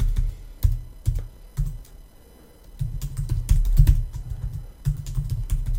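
Keys clatter on a computer keyboard while a password is typed in irregular bursts of close, crisp clicks, separated by a brief pause in the middle.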